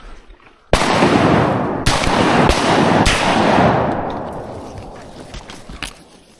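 Shotgun fire while duck hunting for wood ducks: one loud close blast followed by three more quick shots, each with a long rolling echo that slowly fades, and a faint click near the end.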